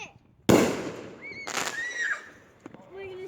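Fireworks set off at home, a sharp loud bang followed by a second burst and crackling whistles, with a faint pop near the end and voices in the background.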